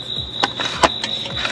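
Ratchet working on the crankshaft position sensor fastener of a 2010 Cadillac CTS, beneath a pulled-back heat shield: a few sharp metallic clicks scattered over a steady high whine, close and moderately loud, no talking.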